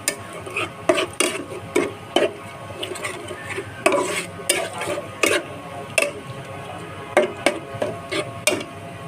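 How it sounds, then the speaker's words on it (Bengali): Spice paste with ground cumin being stirred and sautéed in a pan, with sharp, regular scraping and clinking strokes of a utensil against the pan over a faint sizzle, close up. "এখন মশলাটাকে ভালো করে কষিয়ে নেব যাতে কাঁচা গন্ধটা না থাকে"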